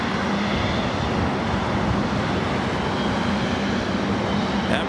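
An Emirates jet taking off on the south side at LAX, a loud continuous engine roar with a steady broadband rumble throughout.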